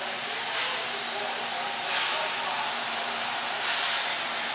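Ground beef fries in a pan with a constant bright sizzle, swelling briefly in three soft bursts, close and steady.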